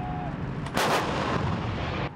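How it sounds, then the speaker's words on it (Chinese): Artillery fire booms during a military exercise, a heavy blast crashing in at about three-quarters of a second and rolling on as a long, loud rumble over steady outdoor noise, with no voices. "演训现场炮声隆隆"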